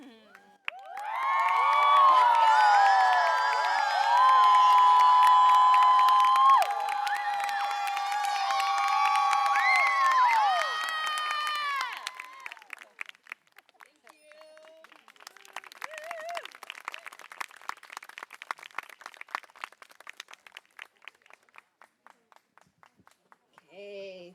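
A festival crowd at the Vines Art Festival 2023 in Stanley Park roars with loud cheers and whoops for about twelve seconds, then settles into steady, crisp applause that carries on to the end.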